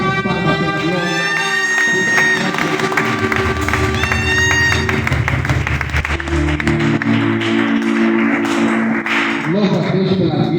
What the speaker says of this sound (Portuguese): Vamos bater palmas pela glória.